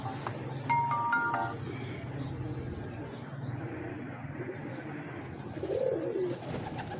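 Breeder pigeons coo softly in a loft, low murmuring calls repeated against a busy background, with someone speaking intermittently over them.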